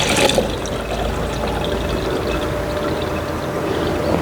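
Medicine solution pours into a tank already holding 20 litres of water, a steady splashing trickle running throughout, close and moderately loud with a brief stronger gush at the start.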